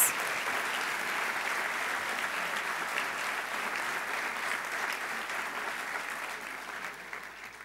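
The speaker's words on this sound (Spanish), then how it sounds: "Agradecemos con un fuerte aplauso el aporte musical" Audience applause at a university lecture event fills the whole stretch, steady and even without a break, with no talk over it.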